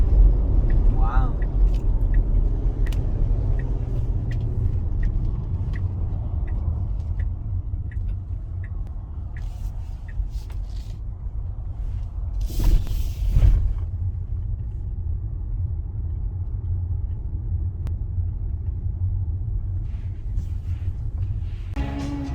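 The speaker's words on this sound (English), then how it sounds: "Here's a quick drive through our campground." A car rolls slowly into a riverside tent campground at Jonathan Dickinson State Park, its low engine and tire rumble steady and close throughout, with a brief louder burst partway through.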